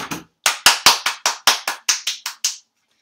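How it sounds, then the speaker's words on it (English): Around ten crisp hand claps ring out in a quick, slightly uneven rhythm for a special guest named Yuvan Singh, each sharp and close with a brief ringing tail, then stop into silence. "Can I hear a round of applause for him?"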